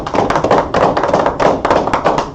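Several people clap at a Sabbath class: close, loud, sharp hand claps in a quick uneven rhythm, tapering after a couple of seconds.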